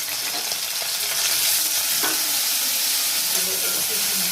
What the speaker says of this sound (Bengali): তেল দিয়ে দিলাম, পেঁয়াজ বাটা দিয়ে দিচ্ছি